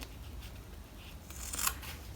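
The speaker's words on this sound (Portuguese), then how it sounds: "Agora eu corto esse excesso aqui" Scissors cutting excess fabric off a sewn pencil case, a few quiet snips rising to one sharper cut near the end over soft room noise.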